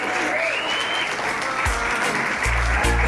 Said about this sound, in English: Another round of applause for Danica.